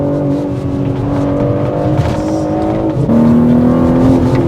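Loud 2025 BMW M3 Competition sedan engine pulling hard under acceleration, a steady strong drone with rising tone and a brief shift dip near the end, heard from inside the car with no talking.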